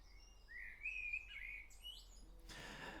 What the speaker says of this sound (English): Yeah, the birds are going wild, Atom Fighter.